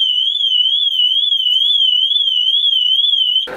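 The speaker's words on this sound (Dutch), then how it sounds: "als iemand eraan zit of iets erin legt of instapt, dan gaat het alarm af" A very loud car alarm blares alone with a steady warbling electronic tone, cycling evenly before cutting off abruptly at the end.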